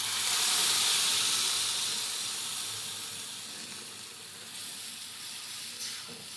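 Masala paste sizzling in a hot pan for Hyderabadi egg curry, a steady broadband hiss that swells early and then settles, close and continuous with no talking.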